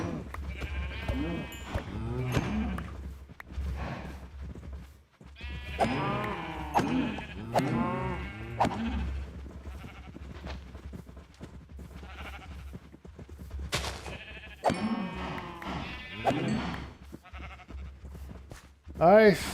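Sheep bleating in the video game Minecraft, several short bleats scattered through the clip beneath steady talking and game background sound.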